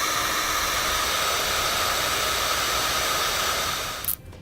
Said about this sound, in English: we're going to use our heat gun to shrink it down and seal our wires